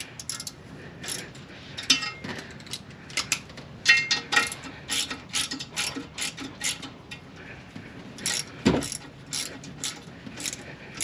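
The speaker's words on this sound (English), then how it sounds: "This is the only way I can properly torque the bolt" A ratchet wrench tightening a bolt while installing an ATI damper on an H22 engine, giving bursts of quick metallic clicks and clanks at irregular intervals, close and fairly quiet.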